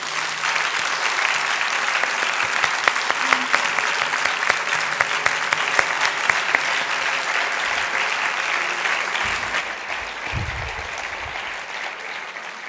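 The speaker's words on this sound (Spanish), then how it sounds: "yo creo que se merece un aplauso" A conference audience breaks into loud, sustained applause after a talk on how migration is told and understood, dense clapping from a full room that thins slightly near the end.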